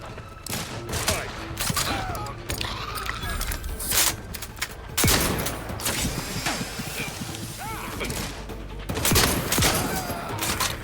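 Shotgun fire in The Outer Worlds 2 during a chaotic firefight: repeated loud blasts and crackling impacts over a dense, continuous din of combat effects, with a voice talking intermittently underneath.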